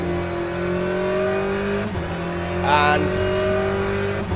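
Race car in the Le Mans Ultimate sim racing game, its engine holding a loud, steady multi-toned drone with a brief sharp rise and squeal partway through, under a voice.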